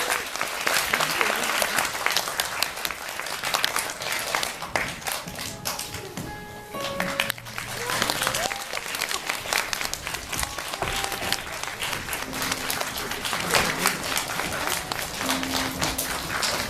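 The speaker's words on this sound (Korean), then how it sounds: "큰 박수로 맞아주시기 바랍니다." An audience at a film talk welcomes guests with long, sustained applause, dense clapping that keeps going throughout. A few voices and thumps come through partway.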